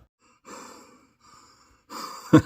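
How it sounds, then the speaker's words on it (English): A man breathes hard while working under the hood of a 1990 Chevy S10 on its ignition parts, with two soft bursts of heavy exhalation and then a sharper, louder gasp near the end. "You can see I'm freaking breathing hard and everything."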